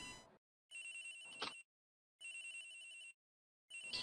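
Telephone ringing in the game Ace Attorney Investigations: Miles Edgeworth, belonging to Agent Hicks and sounding from somewhere unseen: three bursts of a bright electronic trill with silent gaps between them, clear and fairly close, no one talking.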